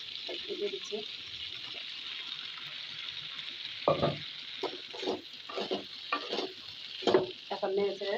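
Yardlong beans, potato and green chilies stir-fry in a pan, with a bright steady sizzle under repeated bursts of spatula scraping and tossing, close and fairly loud, and a voice talks intermittently.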